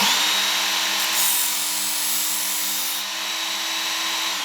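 Metal pizza cutter wheel ground against a sharpening tool on one side, a continuous close rasping, scraping grind with slight swells and no talk.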